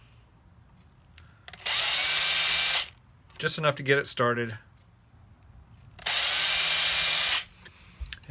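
A small power drill bores a pilot hole into a cigar box guitar during its build, two loud steady whirring bursts of a few seconds each, separated by a brief stretch of talk.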